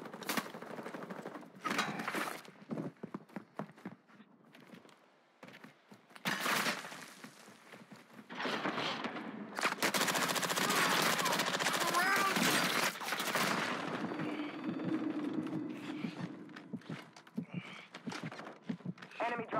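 Call of Duty Warzone 2.0 Resurgence match on the Vondel map: repeated bursts of automatic gunfire near and far, with gaps between them, under radio callouts and an announcer voice.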